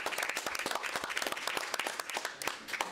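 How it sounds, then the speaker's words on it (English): A smaller room of people at a community oversight board meeting claps to welcome new board members, individual claps distinct and uneven, fairly close and moderately loud for a few seconds. "We're going to pause and then give you the biggest round of applause"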